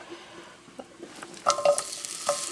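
Soft frying sizzle of sliced onions in oil with stirring, a few clinks and scrapes of a utensil in the pan, quiet and close.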